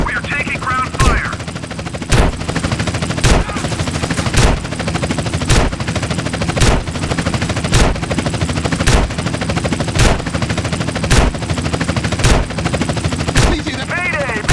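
Sustained gunfire from the ground at a police helicopter in the GTA San Andreas finale mission, with loud, regular bursts roughly once a second over steady rotor and engine roar across the whole stretch.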